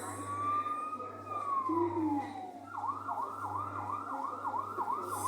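A coin-operated fire truck kiddie ride sounds its electronic siren, a long sliding wail that drops and then turns into fast repeating whoops, fairly close and loud over a steady low hum.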